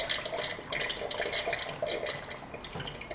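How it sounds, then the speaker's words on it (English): Hot water being poured down the barrel of a Mosin rifle, a steady, faint splashing and trickling stream with small drips, with no talking. "So that hot water is going down the barrel."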